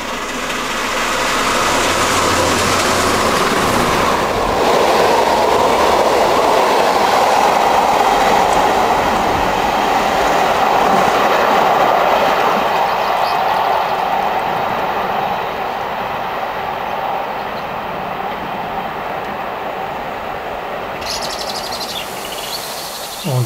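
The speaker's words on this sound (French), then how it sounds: "la 231G558 du Pacific Vapor Club, qui est partie du Havre tôt dans la matinée," The 231G558 steam locomotive of the Pacific Vapeur Club hauling a train at speed near Amiens, a loud, continuous rushing roar of wheels and carriages that slowly eases off toward the end.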